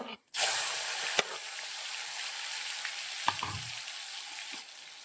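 Tomatoes hit hot oil in a kadhai after mustard seeds and cumin have spluttered, giving a sudden loud hiss that settles into a steady close sizzle with a few small clinks.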